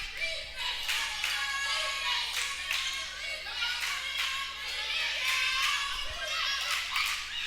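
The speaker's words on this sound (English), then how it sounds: "Tigers reserves over on the bench cheering on their counterparts on the court." Tigers reserves on the bench cheer and clap for their teammates during a women's college basketball game, an ongoing crowd-like burst of claps, shouts and chatter set a little back in the gym.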